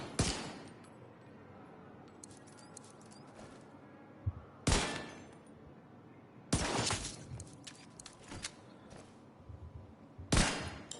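Bursts of gunfire from a gun in The Division 2 video game, four rapid-fire volleys separated by quieter gaps with small clicks and game ambience, fairly faint overall and with no talking.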